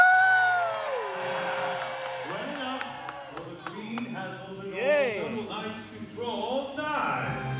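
Dinner theater audience at a medieval knights' tournament cheering, a large crowd whooping and yelling in swelling waves after an announcer's call, loud and continuous with scattered individual shouts.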